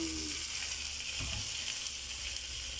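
A breakfast viand sizzles steadily in a frying pan, a dense, continuous hiss of hot oil close up, with a brief soft scrape partway through and no talking.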